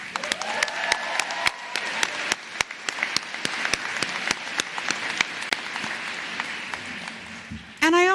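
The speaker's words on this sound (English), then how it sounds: "So let's please give a round of applause for our incredible staff." Steady applause fills a hall at a university professional commencement ceremony, with sharp individual claps standing out near the microphone over the broader crowd clapping.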